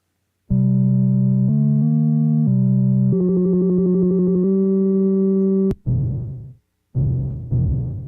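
Bright, beeping Donkey Kong chiptune melody in stepped square-wave tones, followed by a couple of harsh, buzzy electronic bursts, like retro arcade game sounds.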